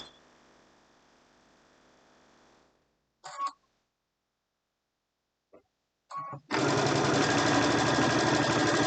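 A sewing machine stitching fabric strips: a low steady hum, then two short bursts of running, before the motor settles into a loud, continuous close-up whir.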